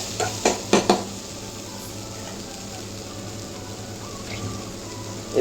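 Cauliflower florets and potatoes fry in a covered pan with a steady, dense sizzle, opened by a few sharp clatters of utensil against pan and another knock at the very end.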